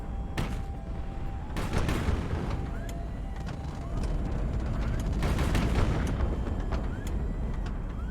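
Chaotic video game gunfire from a minigun mixed with exploding missiles, a dense continuous barrage with repeated bursts and booms running steadily through the whole stretch, loud and busy throughout.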